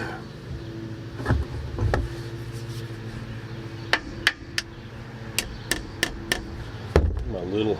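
A small hammer taps during repair work on a 1968 Pontiac ambulance, with about a dozen sharp, close metallic strikes spaced irregularly over a low background hum.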